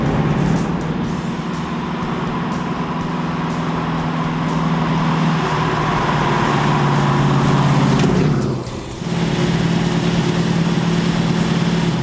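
Custom designer hot rod driving and accelerating, a steady engine drone with rising tone, continuous and fairly loud, briefly dipping near the end before resuming.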